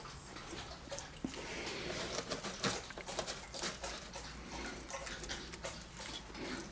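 Guinea pig sisters tussle over a piece of cucumber, their busy wet munching and crunching coming through close-up as a quiet, continuous patter of small chewing sounds.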